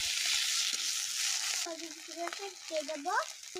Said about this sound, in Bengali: এবার আমি কুচানো টমেটোগুলো দিয়ে দেব